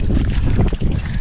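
A sudden strong gust of wind roars loudly against the microphone outdoors, a brief low rumbling blast.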